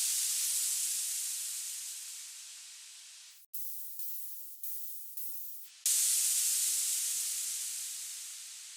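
A synthesized crash cymbal built with the 3X OSC synth in FL Studio, a bright, loud noisy wash that decays slowly, cut by a brief stuttering gated section midway before a fresh hit swells back in, with no voices.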